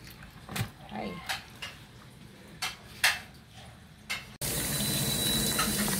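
Water runs from a tap while santol fruit is washed, starting as soft splashes and clatter in a sink, then a steady loud close stream of running water fills the second half.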